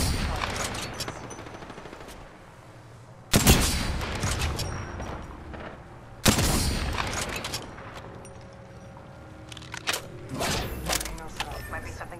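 Bursts of gunfire in a video game battle crackle in sharp, loud volleys with rapid follow-up shots over a busy mix, while players talk throughout.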